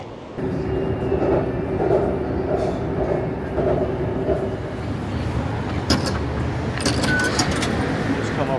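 A Bangkok metro train rumbles steadily nearby, with a low hum and rattling, then brighter clanks and squeals near the end; faint voices in the background.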